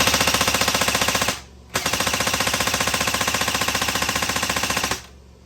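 An airsoft gun powered from a running van fires in two long, rapid automatic bursts with a brief pause between them. The shots come as loud, close, evenly spaced mechanical rattles.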